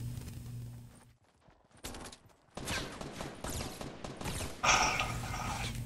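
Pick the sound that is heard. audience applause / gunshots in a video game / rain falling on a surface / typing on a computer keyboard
gunshots in a video game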